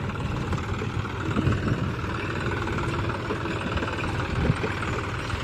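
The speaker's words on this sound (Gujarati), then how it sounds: "હાલ આપણું ટ્રેક્ટર આવી ગયું ઘરે" A farm tractor idles steadily at home, a constant low engine rumble with a faint irregular chug, running alone and fairly loud throughout.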